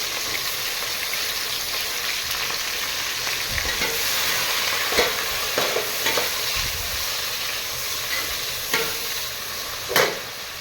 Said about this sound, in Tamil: தக்காளி கொஞ்சம் வதங்கினது